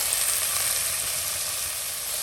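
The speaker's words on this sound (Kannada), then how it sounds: "ಈಗ ಇದಕ್ಕೆ ಹಾಕ್ತಾ ಇದ್ದೀನಿ 5 ಟೊಮೆಟೊ" Chopped tomatoes sizzle in a hot pan for a Mangalorean tomato saaru, a steady, close hiss of frying that holds even throughout with no voices.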